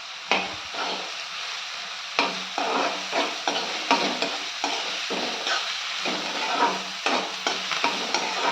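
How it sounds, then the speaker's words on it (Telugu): Fresh curry leaves frying in hot oil in a pan for a ridge gourd curry, with a crackling sizzle and a series of close stirring and scraping strokes at an uneven rhythm, no speech. "దోరగా వేగేదాకా, బ్రౌన్ కలర్ వచ్చేదాకా లైట్గా వేయించుకుందాం."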